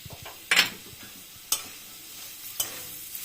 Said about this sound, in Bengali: এখন ঘিয়ে এটা ফ্রাই করব, ফ্রাই করে তারপরে দুধের মধ্যে দিব।